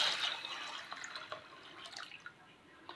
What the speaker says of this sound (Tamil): இப்போ தண்ணி ஊற்றி நம்ம ஊற வச்சிடலாம்.